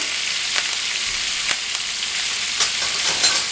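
Butter and fresh garden thyme sizzle in a hot pan, a bright continuous spitting hiss with small pops scattered throughout, close and fairly loud.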